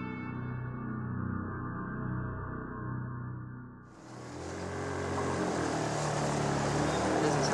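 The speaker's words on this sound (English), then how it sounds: "Less than a mile upriver, the outboard engine falters." Outboard motor of a small boat on the Opon River in Colombia droning steadily, its tone shifting and roughening midway as the engine falters, then a broader, noisier wash of engine and water continues close by.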